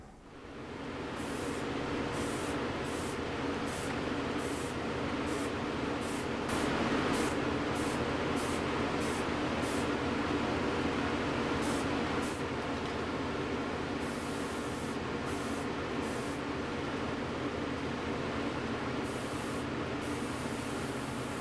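Bursts of hissing dye spray from a nozzle onto new binding, repeated in short and longer pulses over a steady background whoosh, close and fairly loud.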